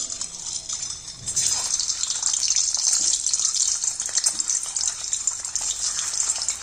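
Boiled eggs dropped into hot oil in a kadai for dhaba-style egg curry, setting off a loud, steady hissing fry that swells after the first second and carries on throughout.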